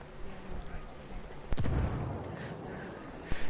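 A frag grenade detonating in a PS4 video game, one sharp close blast followed by a rumbling decay, with a second short pop near the end over faint background game noise and voices.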